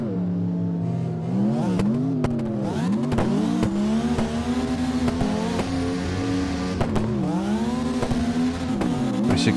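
A truck drifting down the Hakone Nagao Touge mountain pass in a video game, its engine droning and revving up and down in repeated swells, with tire squeal and occasional short impacts, loud and continuous.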